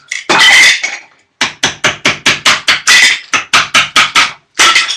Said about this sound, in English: we've been getting a dodgy old screwdriver like this, place it behind the tile, hammer it down